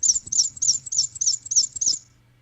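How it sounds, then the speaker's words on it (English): A black-and-white warbler sings a rapid, high-pitched series of about seven evenly spaced squeaky chirps, clear and fairly close, then stops into quiet. "Black and white warbler is correct"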